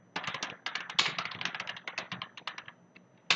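Quick, uneven clatter of keys on a computer keyboard while writing C++ code, a close run of crisp taps with a brief pause before a final louder keystroke.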